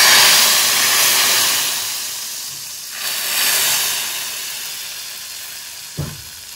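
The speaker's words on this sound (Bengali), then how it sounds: "এবার এটা কিন্তু খিচুড়ির ওপর ঢেলে দেবো" Hot oil tempered with spices is poured over khichuri, giving a loud, steady sizzle and hiss that fades slowly, with a brief soft clatter near the end.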